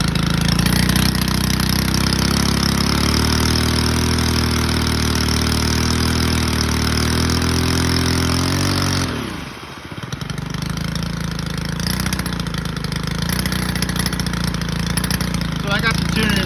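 A STIHL KM91R engine with a replaced carburetor runs loudly at a fast, rough idle, dips and nearly stalls, then catches and keeps idling, with a voice speaking over it.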